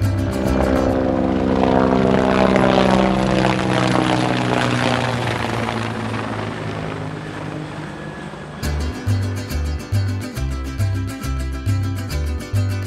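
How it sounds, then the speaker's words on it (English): A toy helicopter roars loudly as its rotor thrums, then shifts into a rhythmic chopping pulse toward the end. "Helicopter."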